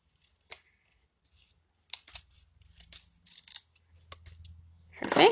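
Scissors trimming strips of paper for stamped gift tags at a craft table: several short, close snipping and rustling cuts, faint at first, then clustered and louder, ending in a crisp paper crinkle.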